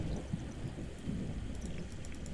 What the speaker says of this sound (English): Is he just out in the rain?